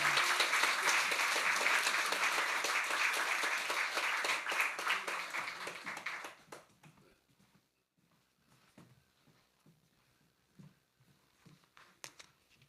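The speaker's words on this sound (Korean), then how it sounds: "우리 박수로 크게 환영하겠습니다" A church congregation at a Sunday worship service applauds loudly to welcome the preacher, a dense, sustained wash of clapping that fades out after about six seconds, leaving scattered faint sounds.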